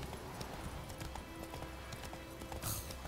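In The Witcher 3 video game, a horse's hooves clip-clop in an even, moderately loud rhythm over a low ambient bed, with a brief louder burst near the end.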